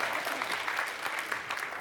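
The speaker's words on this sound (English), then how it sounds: "Little applause." Short, fairly faint applause from a seated audience at a panel discussion event, steady clapping that swells slightly at the end.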